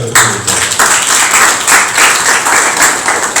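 Audience applauding at a municipal council meeting in Bouaflé, a steady wash of many hands clapping that carries on loud throughout, with no voices standing out.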